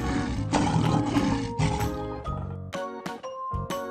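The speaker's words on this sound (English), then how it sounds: "Lion." A lion lets out a loud, close roar, deep and rumbling, followed by shorter grunting bursts and a few bright clinking accents toward the end.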